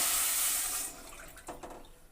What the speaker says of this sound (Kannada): 2 ಕಪ್ಪು ನೀರು ಹಾಕ್ತಾಯಿದ್ದೀನಿ